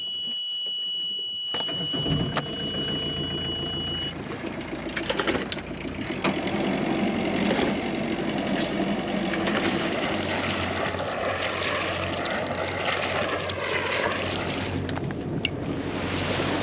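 A sailboat's engine motoring on the open Arctic Ocean offshore, a steady low drone starting after a brief quiet moment and continuing throughout, mixed with wind and rushing water, fairly close and constant.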